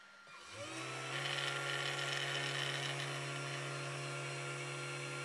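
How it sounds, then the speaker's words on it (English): A CNC machine with an ER11 collet spins a 1mm bit to drill a hole in the corner of a PCB, running too fast. A high steady motor whine ramps up quickly and holds loud and constant. "Oops! Still a bug in the software, the first hole is drilled with a too high speed."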